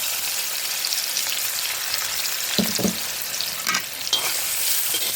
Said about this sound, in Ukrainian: Розігріли олійку, додаємо цибульку.